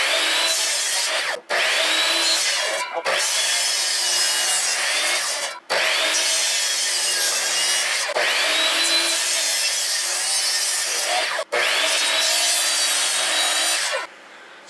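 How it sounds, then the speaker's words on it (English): A hand saw rasps steadily across a piece of fatwood, shaving off its edges in long, loud, close strokes broken by a few short pauses. "Next, I'm going to shave off the edges with the saw."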